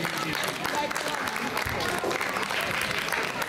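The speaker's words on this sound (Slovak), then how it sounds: "Taký ten veľký potlesk pre týchto športovcov." A big round of applause for young athletes at a Slovak outdoor adventure event, dense clapping mixed with crowd noise and some voices, steady throughout.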